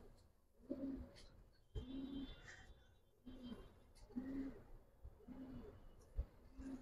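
Racing pigeons cooing nearby in a loft, with a run of soft low coos repeating roughly every second or so and a few faint rustles and thumps in between.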